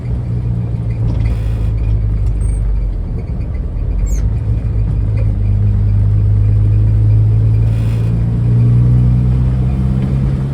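A 1952 Morris Minor's engine rumbles steadily from inside the car as it trundles along, a low continuous drone under road noise with no talk.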